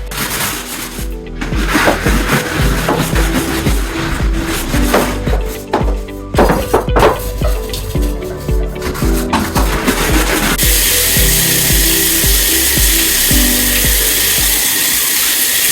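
Power brush scrubs shower wall tiles and grout, a loud close whirring hum with rubbing scrapes that shifts into a steadier, smoother drone toward the end.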